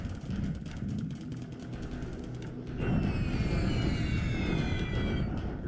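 Aircraft carrying out an airstrike on Singapore in the War in the Pacific strategy game, a steady droning engine roar that swells louder midway, with rising whining tones over a dense rumbling bed.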